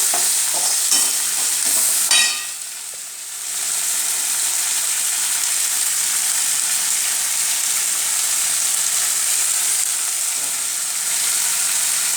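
Onions and tomato frying in a pan for mutton chops curry gravy, steady loud sizzle throughout with a few scraping stirs near the start, no voices.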